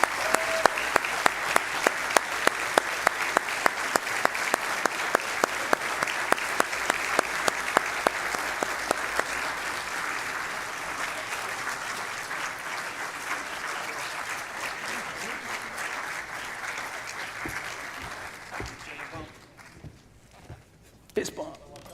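Sustained audience applause at a sheriff's office awards ceremony, a dense steady clatter of many hands for about eighteen seconds, then thinning out to scattered claps near the end.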